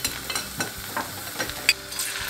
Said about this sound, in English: First, I'm gonna fry my potatoes.